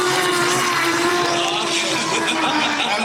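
A three-rotor rotary-engine drift car making 390 horsepower screams at high revs, loud and close, with a sustained raspy wail and some tire noise as it slides along a wall at a drift event in Australia.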